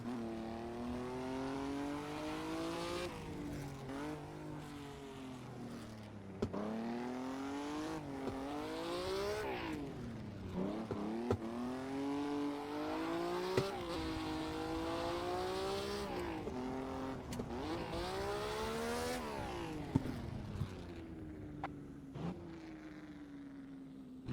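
A car engine in the Assetto Corsa video game revs hard and repeatedly while drifting, rising and falling in pitch with each throttle blip and gear change, loud and continuous with no talking.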